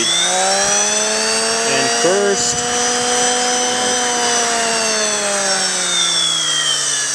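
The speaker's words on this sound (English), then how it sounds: "turn your grinder on. It's got variable speed, set it to full speed" A variable-speed grinder runs at full speed with a loud, steady motor whine near the microphone, its pitch holding constant apart from a brief dip when contact is made, as a lawn mower blade is sharpened.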